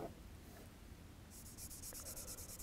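Coloring inside a printed frame on paper during an art lesson, heard as a steady, soft scratching of strokes that becomes brighter and more rhythmic in the second half, close and alone.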